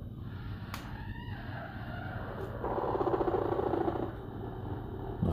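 Backyard chickens cluck and call in an alarmed chorus at close range, with a rooster-like crow rising in the middle, over a low steady background hum.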